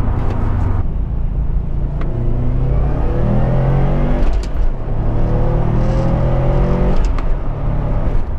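A tuned 2008 Subaru Impreza STI of about 400 horsepower, fitted with a custom exhaust and sports clutch, revs loud and close through several accelerating pulls. A steady engine drone runs underneath with no talk.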